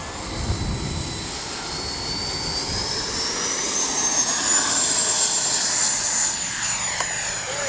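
A Freewing 90mm T-45 Goshawk radio-controlled jet spools up and takes off, its turbine whine rising in pitch and loudness before it pulls away, heard outdoors at close range.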